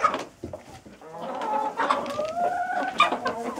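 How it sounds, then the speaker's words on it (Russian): Adler Silver hens cluck and murmur close by while feeding on oats, a steady busy chatter of soft calls with a few louder, rising clucks scattered through. "Видите, как они поедают овес."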